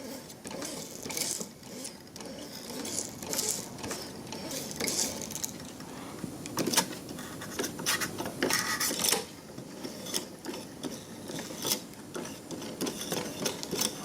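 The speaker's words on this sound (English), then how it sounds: "This tape's a bit thinner, so we're going to get this sort of issue with a bad pinch roller." A Sony TC252 reel-to-reel tape machine runs with a bad pinch roller on thin tape, giving a busy mechanical clatter of ticks, whirring and irregular scraping clicks at a moderate, close level.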